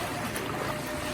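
Fast-flowing flood water rushes in a loud, dense, unbroken roar close by.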